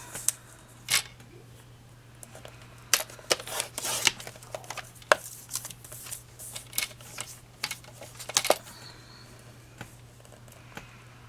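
Paper strips are cut for a mini album with sharp, crisp snips and trimmer clicks scattered irregularly over a steady low hum, close and fairly quiet.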